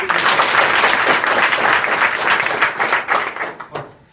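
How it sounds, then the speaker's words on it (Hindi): Loud applause from a crowd for children at a school event, dense clapping that tapers off into a few scattered claps at the end. "आप बच्चों के लिए जोरदार ताली दो।"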